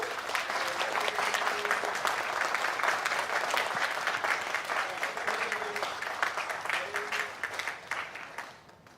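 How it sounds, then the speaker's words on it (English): Sustained audience applause at a Buddhist values and economics conference opening ceremony, loud and dense for most of the stretch before thinning and fading toward the end. "could we have another big round of applause to them?"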